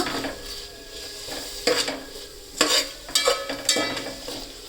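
A handful of fresh mint leaves frying in a pan for a chicken dum biryani, a soft steady sizzle broken by several sharp scraping clinks of a spoon stirring against the metal.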